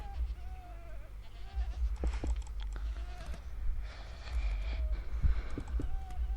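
Goats bleating in a video game zoo, several wavering calls spread across the clip over a steady low background hum, with occasional thumps and clip-clop-like taps.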